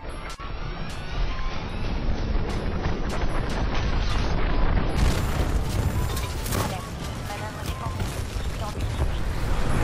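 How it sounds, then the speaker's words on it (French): Loud, dense explosions and crashing blasts from Titanfall 2 combat, with a heavy burst around the middle and continuous rumbling impacts, under a voice talking. "Oh, c'est une blague, je monte dedans, il explose."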